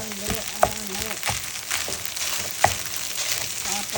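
Cilantro rice frying in a pan, stirred with a utensil that scrapes and knocks against the pan now and then over a continuous close sizzle.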